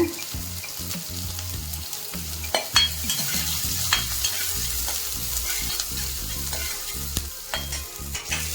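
Chopped onion sautéing in a pan, a steady close sizzle and frying hiss with repeated scraping and stirring knocks of a utensil throughout, no voices.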